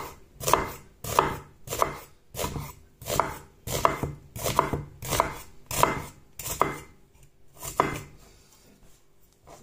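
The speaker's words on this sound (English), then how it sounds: "Let's try this one, the block knife." A block knife chops repeatedly on a cutting board, about a dozen evenly spaced, close, solid thuds with a short pause before the last strike; no talking.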